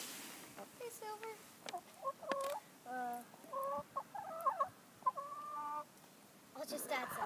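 Chickens with intact beaks cluck in short bursts, a quick uneven series of close squawks and clucks from the flock, with faint voices in the background.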